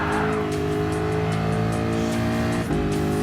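A Ford GT LM Spec II race car in Gran Turismo Sport holds a steady high engine drone with tire squeal and skidding, loud and continuous, with a brief shift or dip near the end and no talk.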